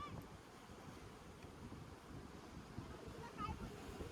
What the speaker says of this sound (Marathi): समुद्र कवळलाय मित्रांनो. जबरदस्त कवळलाय. एवढ्या मोठ्या मोठ्या लाटा मारतात आता.